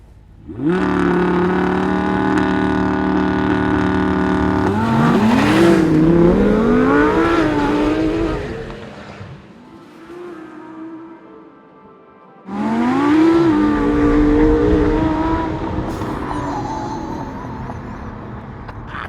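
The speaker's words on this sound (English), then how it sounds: "see if the new NSX can take care of an Audi R8 V10 Plus and a 911 Turbo off the line" Honda NSX, Audi R8 V10 Plus and Porsche 911 Turbo launching off the line on a damp straight, loud engines revving and surging up through gears in two bursts separated by a brief lull, close and with no talk.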